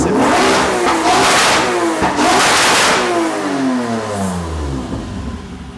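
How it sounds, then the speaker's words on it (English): A Toyota MR2 with a 2GR V6 engine revs hard twice in close succession, then the note drops and falls away as it settles back toward idle, loud and close with no talk. "I stood back to film a couple of sensible, restrained revs from the 2GR"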